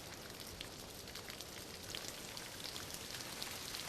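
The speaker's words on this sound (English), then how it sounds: "Almost every afternoon brings rain, making this mountaintop one of the wettest places on Earth." Rain falls steadily on a cool, moist mountaintop forest in Tahiti, a soft, even patter of drops on leaves with no pauses, fairly faint and close around.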